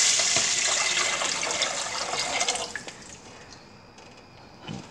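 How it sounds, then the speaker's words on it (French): Broth pours into a soup pot for a carrot and chickpea soup, a steady splashing stream that gradually tapers off into softer trickles and a few drips. "Alors, verserais-tu le bouillon"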